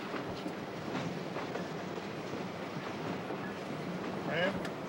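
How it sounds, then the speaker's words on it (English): A train rolls steadily along the rails with a continuous broad rumble and faint rhythmic clatter, heard from inside as the driver's cab or carriage moves, with a brief squeal near the end. "Just sit here and drive your own train, sir."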